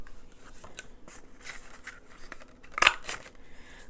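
A paper punch cuts through a scrap of envelope paper, a single sharp crunch standing out among faint handling rustles in a quiet room.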